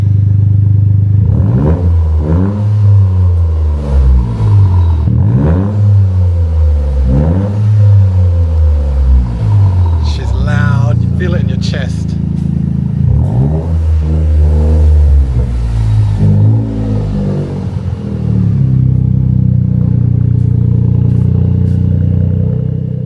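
A modified Toyota GR Corolla engine revs loudly at its first startup, with several sharp blips rising and falling in quick succession, then a longer sustained run and a rough, burbling idle.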